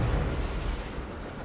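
Explosion in the action video game Control, a sustained low rumbling blast that fills the whole moment with heavy bass energy and no talk over it.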